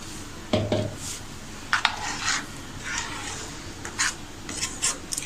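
Palak paneer gravy being stirred in a pan, with a spoon scraping and knocking against the metal in uneven strokes, one sharper clank near the start and softer rubbing scrapes after it, close and without talk.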